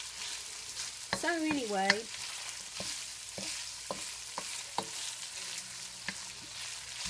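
Onions frying in a pan for a macaroni and cheeseburger bake, a steady close sizzle running throughout, with brief spoken words near the start and occasional soft clicks and stirring taps.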